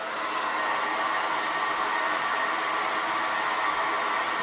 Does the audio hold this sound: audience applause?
no